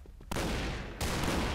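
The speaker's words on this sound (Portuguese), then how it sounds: "Dá um tiro de pistola aqui, ó." Pistol gunfire in the Point Blank shooter game: a sustained burst of loud, dense shots starting after a brief quiet moment, then continuing with a second sharp onset, close and continuous with no talk.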